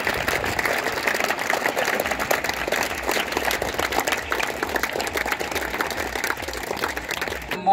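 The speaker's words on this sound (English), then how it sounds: "Clap for him." Steady applause from a crowd at a cricket tournament prize ceremony, dense and continuous clapping that holds at a constant level for the whole stretch.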